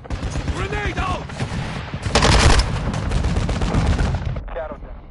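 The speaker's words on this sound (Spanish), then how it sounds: "Sigue disparando ahí mismo, Scorpion" Rapid video-game gunfire with a dense burst of shots and a loud blast near the middle, heard under talk and game voices in a multiplayer shooter match.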